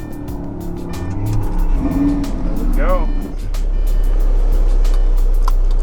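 A 2013 Lamborghini Gallardo revs and accelerates at Speed Vegas, the engine climbing from a low rumble to a loud, sustained roar close by, with someone talking briefly over it at the start.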